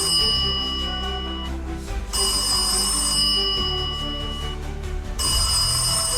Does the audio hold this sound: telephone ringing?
yes